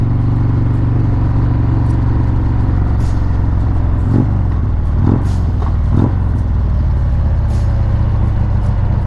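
A Harley-Davidson Road Glide motorcycle carries two riders along a road, its deep engine drone steady and loud throughout, with a few brief rising swells midway and wind rushing over the whole ride.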